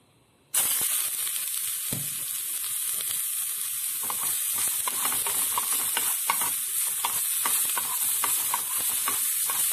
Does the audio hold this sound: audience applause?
no